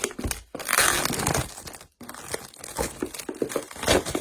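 Cardboard box for a Paper Pumpkin card kit being cut open with scissors, with close crinkling and tearing bursts broken by two short pauses, fairly loud and alone.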